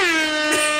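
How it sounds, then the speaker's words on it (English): A loud, close blast from an air horn sound effect, brassy and sustained through the whole short moment with no talking over it. "that's when I'm supposed to have the air horn."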